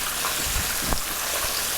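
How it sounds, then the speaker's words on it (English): Chicken shallow frying in a pan gives a steady, close crackling sizzle. It keeps a dense, even hiss from start to finish, with a few louder pops and no voices. "Since we shallow frying our chicken, you're going to want to turn it over after about 5 minutes"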